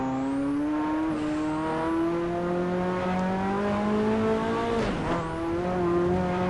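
Ferrari F40 in Assetto Corsa, its engine holding a loud, steady high-pitched drone that rises gradually, with a brief tire squeal and a dip mid-slide before the revs climb again.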